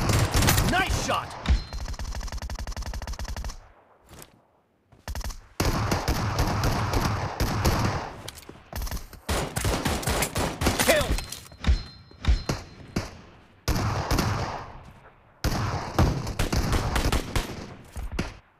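Rapid bursts of automatic gunfire from the mobile battle royale game PUBG Mobile, loud and dense volleys broken by short pauses, with a few brief thuds mixed in.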